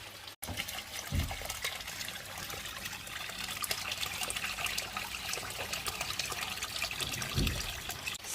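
Gentle trickling and sloshing of water as a mounted phalaenopsis orchid soaks, a steady close liquid wash with a couple of soft knocks.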